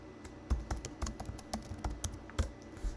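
Keystrokes on a computer keyboard while entering a preset name, a dozen or so close, distinct clicks in an uneven typing rhythm over a low background hum, with no talk.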